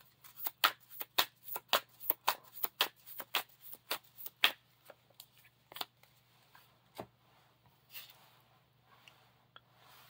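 A deck of playing cards for a Lord of the Rings card game being shuffled close up, a rapid run of crisp riffling snaps that slows and thins toward the end, with no talk.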